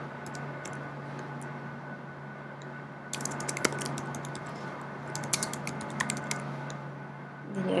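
Keys tapped on a computer keyboard while settings are entered into a training software form, a faint background hum with scattered clicks that gather into quicker bursts in the second half, no talking.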